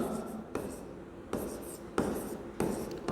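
Chalk strokes on a classroom board during a physics lesson on electric charge, four or five distinct sharp taps followed by scratchy writing sounds at a steady rhythm, close and clear.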